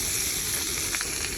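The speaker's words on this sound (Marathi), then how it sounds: "गाईज आता मासा तळून घेतो आम्ही." Fish frying in hot oil in a pan gives a steady, close, crackling sizzle that carries on unbroken throughout, with no voices.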